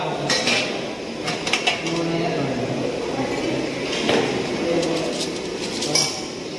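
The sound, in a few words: taking plates and bowls at a canteen counter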